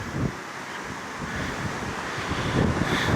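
Strong wind blowing outdoors beside a bridge at Helix Park, a loud, steady rushing buffet across the microphone, rising slightly toward the end, with no talk.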